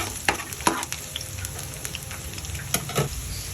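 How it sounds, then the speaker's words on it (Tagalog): Chopped garlic sautéing in hot oil for pork adobo, a steady crackling sizzle running through the whole stretch, punctuated by a few sharp clicks and scrapes of a utensil against the pan. "Ngayon lalagyan na natin yung ating bawang and gigisa lang natin 'yan."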